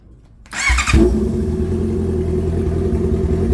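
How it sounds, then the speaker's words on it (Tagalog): A Honda CBR650R fitted with an Extreme Carbon full exhaust without its silencer fires up with a sharp starter crank, then settles into a loud, close, throaty idle that rumbles steadily. "sound check tayo ng Extreme Carbon na walang silencer sa CBR 650R"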